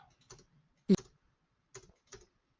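A few sparse, separate taps on a computer keyboard, close and quiet, with one sharper key press and silence between strokes.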